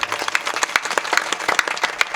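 Crowd at a kirtan breaking into applause, many people clapping in a brisk, uneven patter that carries on steadily without speech.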